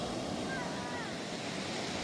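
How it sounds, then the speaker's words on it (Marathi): Sea waves along a broad beach on the Konkan coast make a soft, continuous wash with some wind noise, faint and even with no distinct breaking crash. "हा एवढा समुद्र आहे मोठा हा पूर्ण किनारा आहे"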